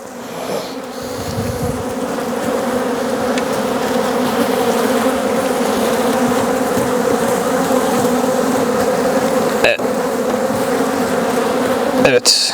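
Honeybees drone in a dense, steady swarm around an open hive during a spring frame inspection, a loud close buzz running unbroken with a couple of brief knocks near the end.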